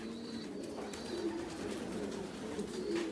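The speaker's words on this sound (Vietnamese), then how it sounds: "Còn đây là chim bồ câu gà, gà Mỹ." A reddish-brown American giant pigeon coos in low, repeated murmuring notes, close by against a soft background of other birds chirping.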